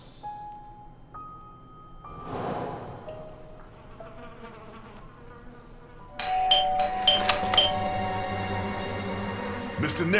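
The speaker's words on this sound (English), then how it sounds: "I thought I should use the doorbell so I wouldn't startle you." A doorbell rings inside the detective video game Blues & Bullets, a bright chiming ding-dong standing out near the end over a low game music bed, with soft buzzing tones earlier.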